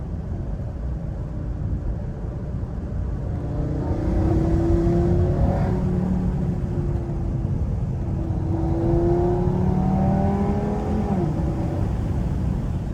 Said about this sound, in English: As you can hear, this thing really sounds like a mini supercar with the 5-cylinder.